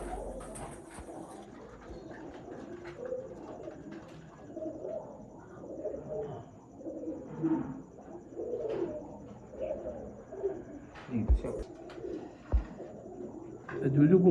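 Breeder pigeons coo repeatedly in a loft, the soft throaty calls rising and falling at close range, while someone talks intermittently over them.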